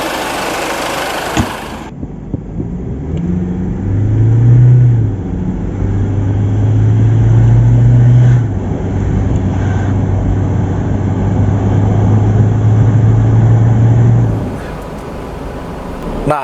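An Isuzu MU-X with retuned torque pulls away on a test drive, its engine note swelling into a steady, loud drone inside the cabin and holding before easing off, with a sharp transient at the start.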